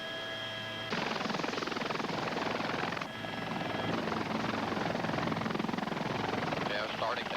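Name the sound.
helicopter lifting off into a hover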